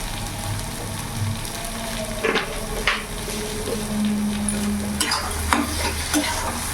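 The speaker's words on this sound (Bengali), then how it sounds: "এবার নাড়াচাড়া দিয়ে আরও কিছুক্ষণ আমি ভাজা করে নেব।" Taro leaves with prawns being stirred and fried in a pan, a continuous close sizzle broken by repeated scraping and clattering strokes of a spatula, no talking.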